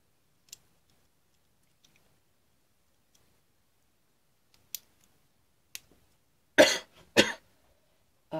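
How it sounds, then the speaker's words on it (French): Two close coughs ring out in a quiet room, preceded by a few faint clicks and taps spread across the silence. "c'est vraiment dérangeant de devoir tousser comme ça tout le temps"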